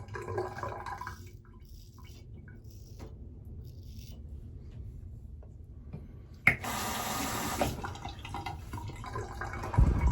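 A water tap used while shaving with a straight razor: faint drips and trickles at first, then a sudden louder gush of running water that continues steadily close by, with no talking.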